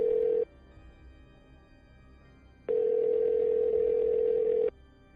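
A steady telephone ringback tone sounds in two long bursts, a short one, then a pause and a longer one, clear and fairly loud over a faint low hum, with no voices.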